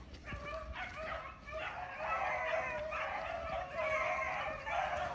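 Several beagle hounds bark and yip continuously while running rabbits outdoors, a steady layered chorus of high cries at moderate distance with little pause.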